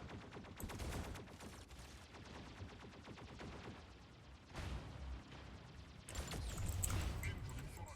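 Video game gunfire in rapid, clustered bursts of sharp shots, mixed with heavier blasts, running moderately loud throughout alongside speech and game voice lines.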